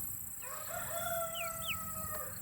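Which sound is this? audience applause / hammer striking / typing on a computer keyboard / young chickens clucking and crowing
young chickens clucking and crowing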